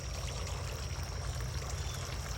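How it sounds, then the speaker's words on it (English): A garden water fountain flows in a steady, continuous pouring stream, close and even throughout, with low rumbling background noise underneath. "There's the water fountain."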